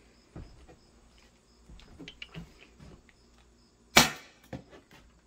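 An HDS launcher fires one sharp, loud shot near the end without its mod, preceded by quiet handling clicks and rustles and followed by a brief rattle.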